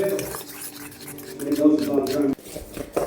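A spoon or whisk stirs sunflower oil into sponge cake batter in a bowl, with scraping and clinking against the bowl under a voice talking.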